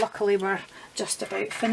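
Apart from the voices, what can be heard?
No everyday noise stands out behind the speech.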